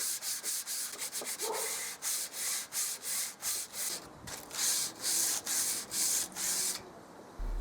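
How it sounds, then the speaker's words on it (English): Hand sanding on a salvaged oak coffee table frame gives rhythmic back-and-forth rasping strokes, about a dozen steady passes, close and even with no talk. "I did some hand sanding and eased over the sharp edges."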